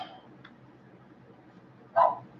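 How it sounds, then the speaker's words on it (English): A dog lets out a single short bark near the end, loud and close, after a faint yip at the start over a quiet background hum. "My dog's barking at me."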